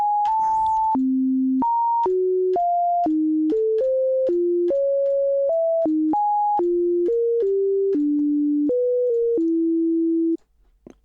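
A pure sine-like tone steps through a string of random pitches centred on middle C (MIDI note 60), each note held for roughly half a second to a second in an uneven melody, clean and steady, then stops abruptly near the end.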